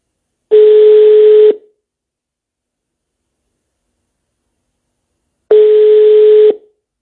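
Two identical one-second telephone ring-back tones, steady and loud, separated by about four seconds of silence while a call is placed.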